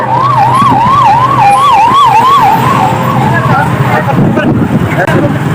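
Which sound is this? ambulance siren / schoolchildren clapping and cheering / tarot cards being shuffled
ambulance siren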